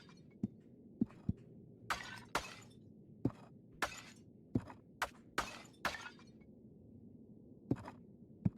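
Clay pots shattering one after another in the SpellSided demo: about a dozen crisp breaking cracks, some with bright splintering bursts, in an irregular rhythm, close and with no talking.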